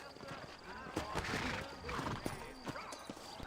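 Horse hooves clip-clopping with a brief whinny from a saddled horse in the Western video game Red Dead Redemption, steady hoof beats sitting under voices, with music and ambience mixed in.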